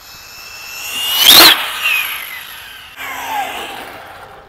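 An Arrma Limitless 8S RC car zips past at quarter throttle on a road, a high whining motor swelling loudly as it passes close, then fading, followed by a second fainter pass.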